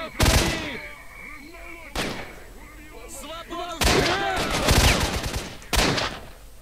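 Gunfire in the video game S.T.A.L.K.E.R.: Shadow of Chernobyl, with loud booming shots in bursts and single blasts spread over several seconds, some echoing tails and brief game voices between them.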